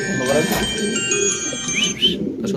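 Red Lahori pigeons at a farm coo in low, throaty bursts close by, while someone talks over them and a few brighter chirps rise above the steady murmur.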